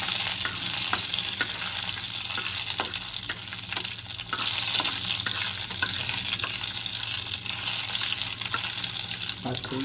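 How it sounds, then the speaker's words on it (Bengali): Panch phoron spices and dried red chillies fry in hot oil, a dense, constant crackling hiss punctuated by sharp little pops and occasional stirring scrapes, loud and close. "এবার আমি 5 ফোড়নটা আর এই শুকনো লঙ্কাগুলো দিয়ে দেবো, দিয়ে আমি একটু ভেজে নেব।"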